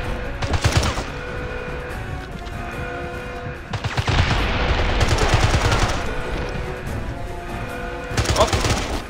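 Bursts of AK rifle fire in the James Bond Blood Stone video game come in rapid automatic volleys, near and loud, separated by short pauses, with voices talking over parts of the shooting.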